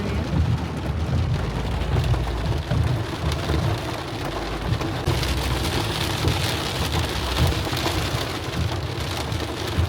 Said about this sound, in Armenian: Ինչ անձրև է։